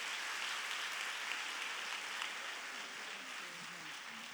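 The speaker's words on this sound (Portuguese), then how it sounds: "Aplauda o Senhor Jesus." Church congregation applauding during a women's vigil service, a soft, even wash of clapping heard from a distance and fading slightly toward the end.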